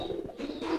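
A racing pigeon coos a few soft, low notes close by in a loft, brief and quiet with no voices.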